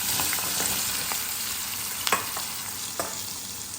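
Chopped bottle gourd hisses and sizzles steadily in a hot oil tempering with asafoetida, the flame switched off, with a few sharper crackles and pops scattered through the continuous frying noise.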